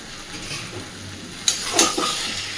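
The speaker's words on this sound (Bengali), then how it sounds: "এইবার ভেজে রাখা আলুগুলো এর মধ্যে দিয়ে দিচ্ছি।" Fried potatoes tipped into a pan of soybean curry and stirred, giving a soft steady sizzle with a few sharper scraping and clattering stirs near the middle, close and moderately loud with no talking.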